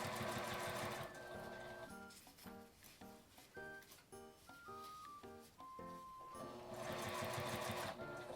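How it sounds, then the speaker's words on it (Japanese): A sewing machine stitches along the top edge of a small fabric zipper pouch, running in a steady whirring burst, pausing into short start-stop stitch runs in the middle, then running continuously again. "ここはちょっと縫いにくいですが、上から押さえるようにして上端を合わせて縫います。"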